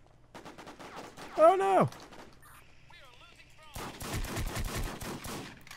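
Pistol fire in the video game War Inc: Battle Zone, a sharp burst of rapid shots near the end following scattered game sounds, with a voice exclaiming earlier.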